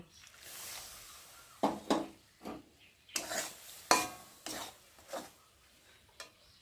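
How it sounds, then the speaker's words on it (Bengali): A spoon stirs milk into semolina and flour fried together for suji paratha dough, a few separate scraping strokes against the pan, close and fairly quiet. "আর এখন আমি গুলে রাখা যে দুধটা গুলেছি, সেই দুধটা এখন আমি ওর মধ্যে ঢেলে দেব"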